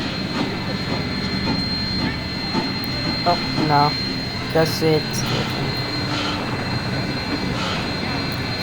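A Durango Silverton Narrow Gauge Railway train plays from a video: a steady rumble of rolling cars with a few brief squealing and hissing bursts, heard under a person talking over it.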